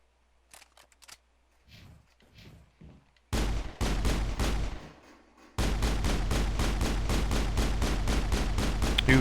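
A Mako tank in Mass Effect fires sledgehammer rounds. There are loud, booming shots in quick succession, first a few bursts and then a steady rapid volley, following some faint game noise at the start.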